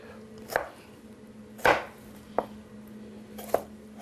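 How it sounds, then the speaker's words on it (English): A knife chops tomatoes on a cutting board for chunky guacamole, with four distinct, separate thuds spaced unevenly over a quiet, faintly humming kitchen background. "I like my guacamole chunky, so I pre-cut the tomatoes, as you're seeing me do"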